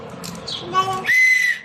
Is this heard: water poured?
no